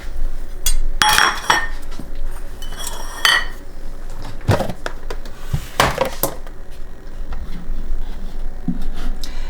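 Bowls for ice cream are taken out in a kitchen: ceramic dishes knock and clatter with sharp clinks of cutlery in irregular bursts, fairly close.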